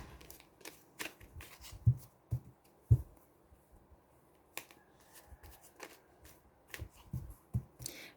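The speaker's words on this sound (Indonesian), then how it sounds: "Saya kocok kartunya dulu, baru saya bagi dua kartunya" Tarot cards are shuffled by hand, a series of soft close riffles and light slaps in irregular bursts against a quiet background.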